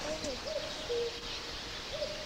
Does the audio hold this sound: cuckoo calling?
yes